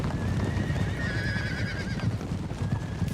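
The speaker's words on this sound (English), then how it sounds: "Screaming horses extraordinaire." Horses neigh and scream amid galloping hooves during a cavalry charge in the strategy game Empire Total War, shrill whinnies rising over a dense rumble of clip-clop and battle noise.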